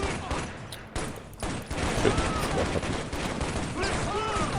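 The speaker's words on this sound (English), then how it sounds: "the AI shot me through the wall" Gunfire from AI enemies in the video game Shadow Ops: Red Mercury, a dense, continuous fusillade of shots and bursts filling the clip at steady loudness, with game effects layered in.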